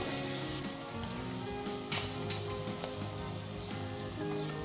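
Spices frying in a pan for a Punjabi chana/urad dal sabzi, a steady dense sizzle and crackle that runs unbroken throughout, close and moderately loud with a few sharper pops.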